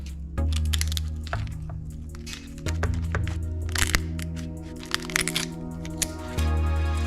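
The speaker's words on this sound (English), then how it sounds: "Start from the bottom with my shears." Kitchen shears cracking through a lobster shell, a series of sharp close crunches and snaps scattered over a few seconds, with quiet music underneath and no talk.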